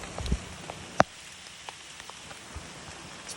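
Heavy rain pours steadily outdoors during hazard tree removal, a dense hiss with scattered louder drops and one sharp knock.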